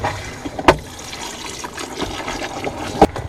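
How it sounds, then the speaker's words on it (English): Water trickles into a Class B RV toilet bowl as it fills, with a soft continuous flow. Two sharp clicks or clunks come from the toilet mechanism. "you can see the water's filling up the bowl like it's supposed to"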